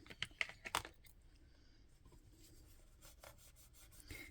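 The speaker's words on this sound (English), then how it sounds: "my ink pad onto my lady. You can probably hear that going now. Lots of light tapping." An ink pad is dabbed onto a Lavinia rubber stamp, making a cluster of light, quick taps at the start that fade into quiet soft rubbing, with a faint tap near the end.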